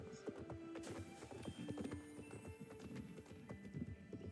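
Horse hooves clip-clop steadily along a trail in a video game, a close, continuous rhythmic patter of footfalls with a brief whinny mixed in.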